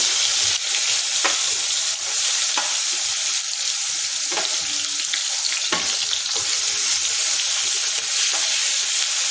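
Mustard seeds splutter in hot frying oil, giving a loud, dense, continuous crackling sizzle with scattered sharper pops throughout and no voices.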